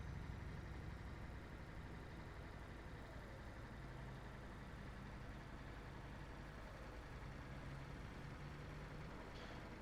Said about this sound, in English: sounds like a bus behind me.